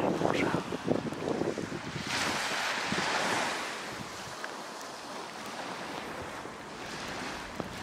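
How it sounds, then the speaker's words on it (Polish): Ocean surf washes in broad hissing surges, with wind buffeting the microphone, loud at first and then settling into a steady roar. "idziemy pofilmować falę."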